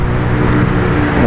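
A tow truck rolls past hauling a broken-down Chevy headed for the scrapper, its steady, loud engine drone and road rumble sounding close by, with no talking.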